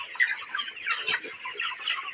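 Broiler chickens on a poultry farm, birds around two kilograms each, cluck steadily as a dense flock close by, with overlapping calls and no pause.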